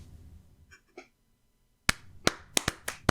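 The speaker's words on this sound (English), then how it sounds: "I'm clapping for myself." A man claps for himself: five sharp, loud hand claps in an irregular rhythm, close by, following a brief murmur of voice and a moment of silence.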